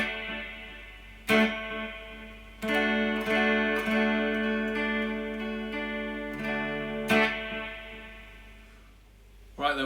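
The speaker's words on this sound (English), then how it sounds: "I've got a clean sound through the amp. I'm on the clean channel with some reverb, and I've got some chorus, a bit of compression and a bit of delay." Clean electric guitar played through an amp's clean channel with reverb, chorus, light compression and delay, sounding as ringing strummed chords with sharp attacks around 1.3, 2.6 and 7.1 seconds, sustaining and decaying smoothly with no voice.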